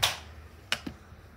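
A hand clap in a classroom, one sharp burst at the start followed by two quicker, fainter smacks, close and alone in a quiet room.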